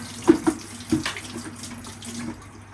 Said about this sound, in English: We're going to run the tap